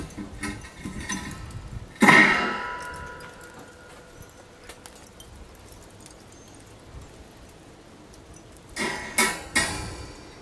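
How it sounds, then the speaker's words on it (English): Metal grill grates being set into a Grill Dome kamado grill, with a sharp metallic clank early on, then quiet, then a short cluster of clattering knocks near the end, all close by. "Gonna put the grates in."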